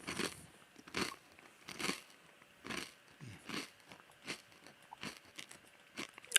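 Kroger brand kettle cooked jalapeno chips being munched, with loud, crisp crunching bites coming in irregular bursts about every second, close to the microphone.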